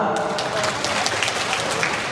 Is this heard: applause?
yes